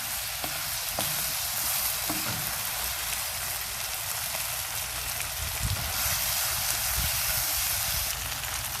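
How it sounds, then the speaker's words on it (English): Vegetables and smoked sausage stir-fried in a wok give a continuous bright sizzle with occasional stirring scrapes, steady and close, with no talking. "But I'm using a wok, so I'll just keep stir frying this"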